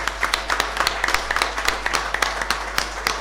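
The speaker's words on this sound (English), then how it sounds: "I think he deserves a round of applause," A live audience claps for a guest at a charity show, sharp individual claps in a fairly sparse, uneven rhythm, close and distinct over a steady low hum.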